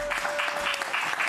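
A TV studio audience claps in a dense, steady burst of applause, loud and close throughout the short stretch, with no speech.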